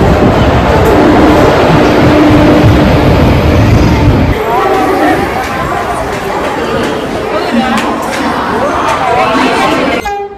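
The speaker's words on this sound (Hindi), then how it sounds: "मेरा ट्रेन आ रहा है।" Vande Bharat Express train pulling into Anantapur railway station, a loud rumbling approach with a horn and brake squeal tones, amid busy platform chatter.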